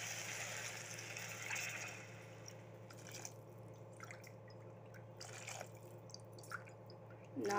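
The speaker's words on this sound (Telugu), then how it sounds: "నేను 6 గ్లాసులు వాటర్ పోసుకుంటాను" Glassfuls of water are poured into a pot for veg biryani, coming as several separate splashes and trickles at intervals over a low steady hum.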